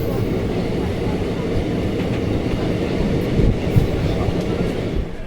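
A crowded passenger train on the Kolkata to Tarapith route runs toward Rampurhat Junction, its wheels producing a steady, loud rumble with faint clickety-clack over the rails throughout.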